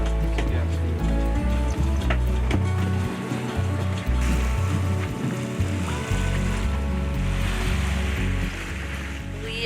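Sailboat running downwind on a broad reach offshore, heading past Point Conception, with a steady wash of waves and water along the hull and a constant low rumble of wind throughout, people talking faintly underneath.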